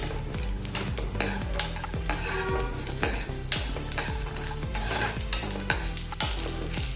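Cumin, peanuts and chana dal stirred in a hot pan, with a continuous dry sizzle and rapid, repeated scraping strokes of a spoon against the metal. Loud and close throughout, with no voices.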